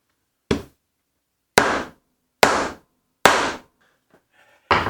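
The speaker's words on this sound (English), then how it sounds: "That way when you hammer it in" Five sharp, loud hammer blows land at an uneven pace, each a hard wooden thwack with a brief ring, as a T-nut with prongs is driven into pre-drilled wood; no one talks.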